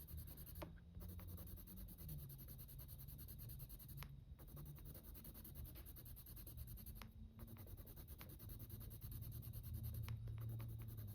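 Soft, steady scratching of colored pencil layered on toothy paper, continuous strokes with a few brief pauses, quiet and close.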